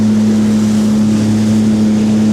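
Motorboat engine droning steadily with a strong low hum, heard from aboard a boat on open water with wind and wave wash.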